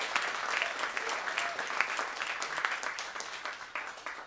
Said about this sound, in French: Une bonne main d'applaudissements pour cette équipe de feu